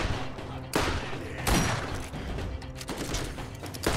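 Rapid assault rifle fire in the Borderlands co-op shooter, with several loud sharp bursts at about 0.75, 1.5 and 3 seconds over dense, continuous game noise and clatter.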